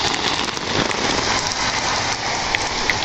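Heavy rain drums on a large umbrella outdoors in cold weather, a dense constant patter close overhead that stays loud and even throughout.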